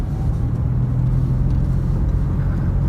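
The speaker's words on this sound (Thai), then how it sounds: "หลังจากกลับรถแล้วเราจะเร่งความเร็วครับ" A car with a CVT gearbox accelerates smoothly after a U-turn, giving a steady, continuous low engine rumble heard from inside the cabin at an even level throughout.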